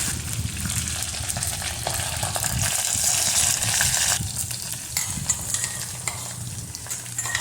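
Spice mix with dried chillies and curry leaves frying in hot oil in a pan, a loud continuous sizzle and crackle with occasional stirring scrapes, close up throughout, no talking.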